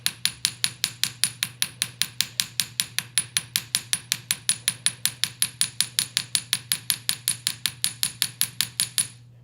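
Rapid, evenly spaced metallic hammer strikes on copper flower petals ring out dozens of times in a steady rhythm, close and alone, over a faint low hum.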